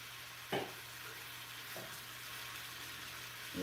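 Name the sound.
seasoned food cooking in a pan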